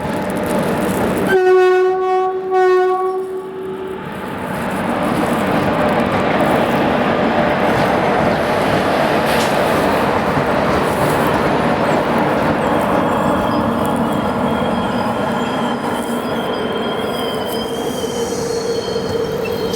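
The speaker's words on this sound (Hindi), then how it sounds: "तो कड़मना रेलवे स्टेशन को स्लोली स्किप करिए, महाराष्ट्र एक्सप्रेस।" The Maharashtra Express passes Kadamna railway station, opening with a loud, close horn blast lasting a couple of seconds, followed by a sustained rumble of wheels on track with squealing and rattling that continues steadily to the end.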